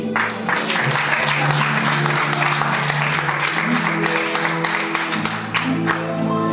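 A church congregation applauds after a Gospel reading, a dense, steady wash of many hands clapping that fills the room, with a sustained tonal backdrop beneath it.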